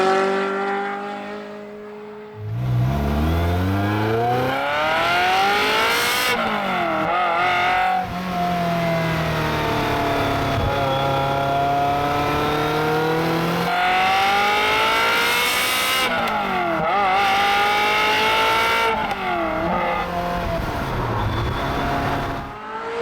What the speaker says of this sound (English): The aforementioned GT3's engine is a masterpiece, as is the old Metzger Flat 6